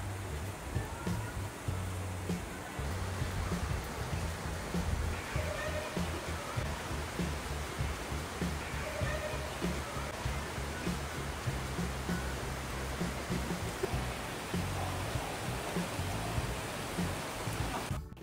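Rain falls steadily as a continuous soft hiss, an even wash of patter that holds throughout, moderately quiet and without talk.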